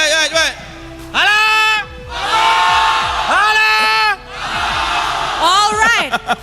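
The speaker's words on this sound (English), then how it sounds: "apa kata Fatah cheer the crowd daripada side Vamos pula." A crowd cheering at an MPL Malaysia Mobile Legends esports match. The cheering rises in loud, whooping bursts with sharp vocal shouts between them, and there are pauses in the cheering.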